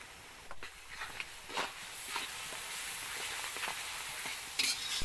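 Onion and garlic paste sizzles and hisses steadily in hot oil for a chicken curry, with intermittent scraping stirs breaking through the continuous frying.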